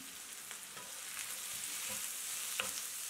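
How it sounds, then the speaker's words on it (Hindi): Chopped chilies, onion and turmeric frying in a pan as they are stirred, a soft continuous sizzle with occasional scraping stirs, close and fairly quiet, no speech. "अब इसे चला देते हैं।"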